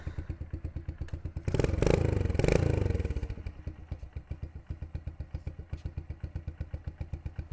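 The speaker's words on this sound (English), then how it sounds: "Let's let it idle for a minute, Zach, and then we'll check the oil level" A Kawasaki KLX110 dirt bike idling up close, its small single-cylinder engine thumping in a steady rapid rhythm, with a brief louder rev-like surge and clatter early on before settling back to an even idle.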